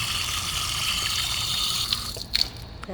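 Water runs and trickles steadily into a cat's bowl nearby, ending with a few drips and splashes.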